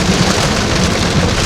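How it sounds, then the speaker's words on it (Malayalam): Steady rain falls during a drive through the Victorian countryside toward the New South Wales border, a dense continuous hiss of drops on the car, loud and close with no talk. "പെട്ടെന്ന് വെതർ മാറി, മഴയായി."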